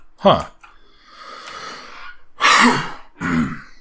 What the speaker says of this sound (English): you guys don't want to sit here and listen to me coughing constantly